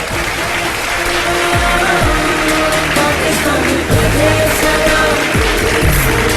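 Studio audience at a live Ramadan iftar television show breaks into sustained, loud applause that fills the room, with broad low rumbles and thumps running through it.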